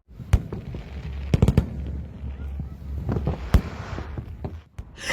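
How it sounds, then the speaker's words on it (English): Fireworks bursting over a Bonfire Night display, a series of sharp cracking bangs at irregular intervals over a steady low rumble, with a cluster of loud pops near the middle and more scattered reports toward the end. "It's fireworks!"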